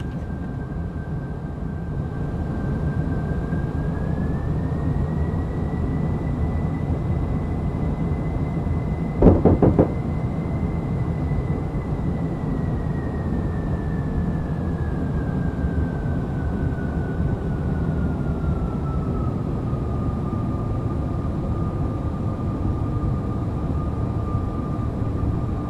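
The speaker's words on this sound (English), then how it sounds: "you could hear the birds hitting the plane." Birds strike a Challenger 650 business jet in the X-Plane flight simulator, heard as one brief cluster of sharp knocks over a steady cabin engine drone with a slowly shifting whine.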